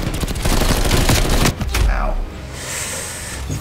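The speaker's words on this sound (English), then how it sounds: "You can destroy sentry turrets with one hit with this hand cannon." Hand cannon fire in a first-person shooter video game, a fast burst of loud gunshots in the first second and a half, then a single blast and fading game noise.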